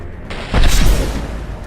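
A single heavy gunshot-like boom from the video game Mass Effect 2, loud and close, with a short rumbling tail that fades out.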